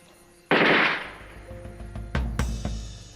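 Gunshots in an Algerian War setting: one loud, sharp blast with a ringing tail, then a quick series of three or four crisp cracks close together, with no talking.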